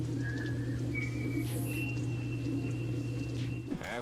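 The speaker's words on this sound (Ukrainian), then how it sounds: "Лулу Лотус виконала пісню із фільму Хрещений батько через ніс" A thin, wavering whistle through the nose holds long tones in a slow tune from The Godfather over a steady low hum, the notes sliding gently between pitches.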